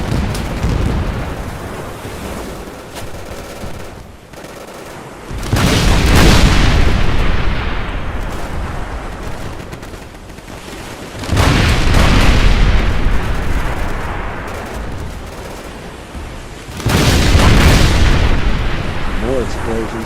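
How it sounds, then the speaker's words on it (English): Battlefield explosions in the Xbox video game Easy Red 2 come as three heavy, rumbling booms several seconds apart, each swelling loudly and then trailing off into a long, noisy decay. "More explosions for you."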